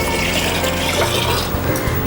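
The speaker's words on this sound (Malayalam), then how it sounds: "ഇനി കുറച്ച് വെള്ളം, കുറച്ചേറെ വെള്ളം ഒഴിക്കാം." Water pours steadily into a cooking pot while turmeric and salt are being cooked for a yam dish, a continuous close, loud rushing splash with no talk over it.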